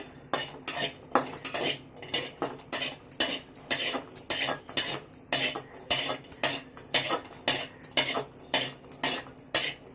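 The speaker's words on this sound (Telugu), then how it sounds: "ఎండు కొబ్బరి ఫస్ట్ వేసుకోవాలి ఫ్రెండ్స్, బాగా వేగాలి ఇది" Dry coconut roasting in a pan, a spoon scraping and stirring against metal in quick repeated strokes, close and fairly loud, no talking.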